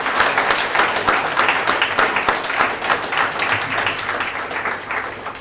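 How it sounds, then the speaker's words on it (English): Sustained applause from an audience fills the whole stretch, dense clapping holding steady at moderate loudness without a break. "give a round of applause to all of the developers that have helped make this happen"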